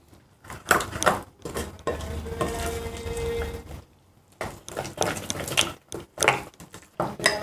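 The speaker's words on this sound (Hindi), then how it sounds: "बेसन ऐड कर दें। और अच्छा सा बैटर बना लें।" A spoon stirs gram flour and fish masala into a thick batter in a bowl. Wet scraping and clinking strokes come in bursts, with short pauses between them, close up and without any talking.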